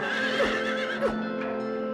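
Horses neigh in the video game Silent Hill 3, several short whinnies overlapping a steady droning game soundtrack, fairly loud and close with no talking.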